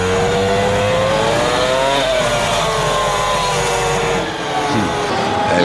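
Formula One race car from the F1 2005 video game on the British circuit, engine screaming loud and close as it accelerates through gear changes, pitch climbing steadily with short dips at each shift.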